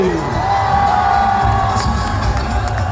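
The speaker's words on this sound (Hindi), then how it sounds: "पूरी टीम के लिए क्लैपिंग होनी चाहिए, बल्कि तालियों के साथ शोर होना चाहिए" A packed cricket stadium crowd at a Pakistan Super League match roars with steady cheering and clapping, a loud, continuous wash of massed voices and applause with no gaps.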